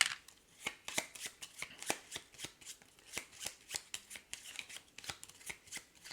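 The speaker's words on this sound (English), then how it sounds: "let's shuffle his cards up" Playing cards for the Wyrmspan board game are shuffled close up, a series of sharp riffling bursts and taps repeating in uneven rhythm with quiet gaps between.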